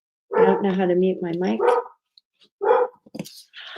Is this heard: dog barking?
yes